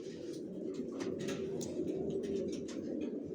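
Racer pigeons coo in a loft, soft low rolling calls overlapping in a steady murmur, with faint wing flutters and scuffs close by.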